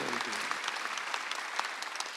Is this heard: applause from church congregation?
yes